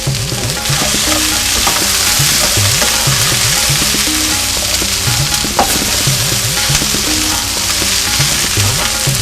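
Okra fries in a pan for Fiji-style Indian bhindi fry, a loud continuous sizzle with spatula scrapes and stirring strokes throughout, close and without talk.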